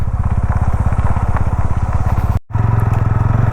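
A motorbike engine labors loudly and steadily up a steep dirt shortcut of stony, slippery soil. The rapid pulsing thrum cuts out for a split second, then resumes as a higher, strained drone.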